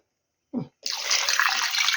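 Water is poured into a pot of fried meat and young potatoes: a short splash first, then a steady, close, continuous pour lasting over a second.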